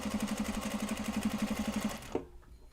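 A sewing machine stitches a Japanese fabric bag in a quick, even run of needle strokes close by, then stops abruptly and leaves near silence. No one speaks.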